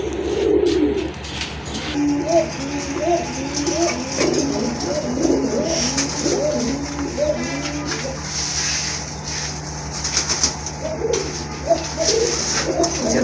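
A breeding pair of Indian Lotan pigeons coo close by in a repeated, throaty rolling rhythm that carries on steadily over a low constant hum, with faint background noises.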